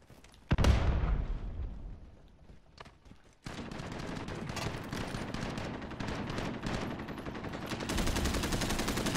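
Gunfire in Call of Duty: Modern Warfare opens with a loud close shot, then sustained rapid bursts of automatic fire and distant shots continue steadily, thickening toward the end, with no talk over it.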